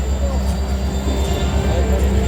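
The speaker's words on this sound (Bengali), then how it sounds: "এই যে ট্রেন চলে এলো," A train pulls into the platform at Ranaghat Junction with a low, steady rumble and rolling noise, while a person talks over it.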